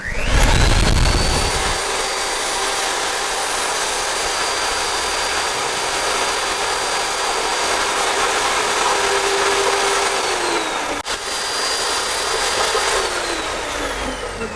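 A DongCheng electric core drill spins up and runs at around 1000 RPM during a speed test, giving a loud, steady, high-pitched whine close by that slightly winds down near the end; no talking.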